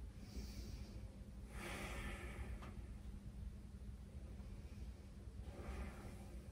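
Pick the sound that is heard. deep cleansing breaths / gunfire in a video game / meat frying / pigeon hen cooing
deep cleansing breaths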